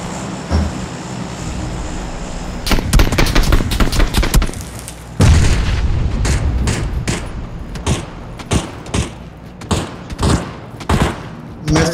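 Bursts of automatic gunfire in a PUBG match, sharp rattling volleys that start after a quieter opening and repeat in choppy clusters, loud and close, with no talk.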